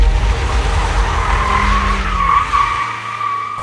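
A car drives off with a loud, steady engine roar and road rumble that rises in pitch, then the sound drops away abruptly.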